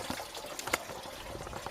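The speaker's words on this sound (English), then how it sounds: "Note how much water is coming out" Coolant water drains out of a Ford Focus 1.5 TDCi MK3 diesel engine, a steady noisy splashing and trickling stream close by, with a brief louder splash partway through and no talking.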